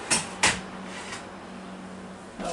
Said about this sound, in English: So we'll open the door.